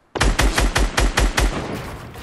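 Automatic gunfire in the video game Fortnite, a loud rapid burst of about eight sharp shots in quick even succession, then a short tail.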